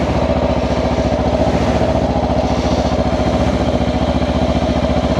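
Kawasaki Versys X-300, a 300 cc twin motorcycle, running steadily while being ridden, its close, continuous engine drone holding a fast even pulse with wind noise over it and no talk.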